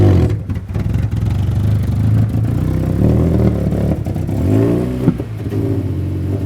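Alfa Romeo 156 engine revving through its exhaust, a loud mid-pitched roar that rises and falls with throttle blips and a faint clatter, close by and heard alone.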